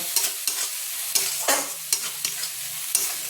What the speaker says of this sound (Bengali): তো এবার আমি এই পেস্টটাকে ভালোভাবে এর সাথে কষে নেব।